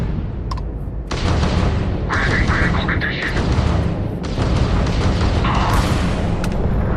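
Space combat in Starfield against a pirate ship: a dense, continuous barrage of weapons fire and booming explosions, loud and sustained with brief gaps, under a speaking voice.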